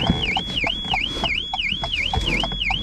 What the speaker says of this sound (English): That is my car alarm. Not sure why that went off.